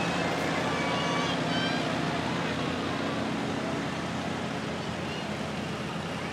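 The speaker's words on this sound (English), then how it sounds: "The tractor pulling the sleigh." A tractor pulling a sleigh in a Christmas parade rumbles steadily nearby under broad outdoor noise, with faint voices in the background.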